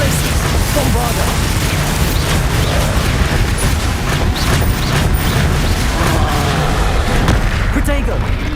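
A Bombarda spell blast in Hogwarts Legacy goes off amid dense, continuous combat noise, with booming impacts and crackling effects layered over music and voices throughout.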